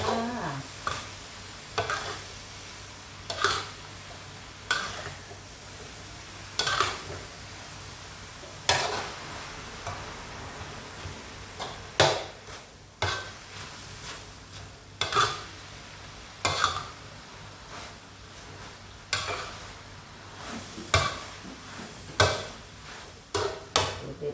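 Kanjong vegetables with pork are stir-fried in a pan, with a continuous low sizzle broken by regular loud scrapes and clanks of a utensil against the pan, repeating every second or two.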